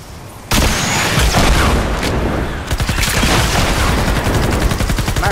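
Rapid SMG gunfire in Fortnite Save the World, loud dense bursts of automatic shots rattling continuously after a brief quiet start, with explosive booms mixed in.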